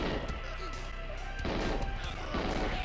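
Rapid gunfire bursts from the GoldenEye 007 video game, repeated sharp shots layered over a dense game soundtrack, loud and continuous through the stretch.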